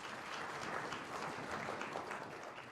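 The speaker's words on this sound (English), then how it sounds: "once again, a round of applause" An audience at an annual meeting of a council of traditional leaders gives a round of applause, a dense, even wash of clapping that holds steady for a few seconds without speech.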